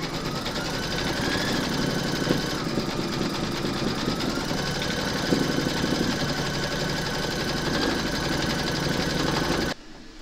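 Embroidery machine stitching round 19, the checkering over a scarecrow's sleeve and cuff in an in-the-hoop applique, running in a steady, dense buzzing chatter close by for nearly the whole time before stopping abruptly near the end.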